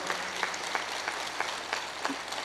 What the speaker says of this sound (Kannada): ಒಂದು ಸಾರಿ ನಿಮಗೋಸ್ಕರ ನೀವು ಚಪ್ಪಾಳೆ ಹೊಡ್ಕೊಳ್ರಿ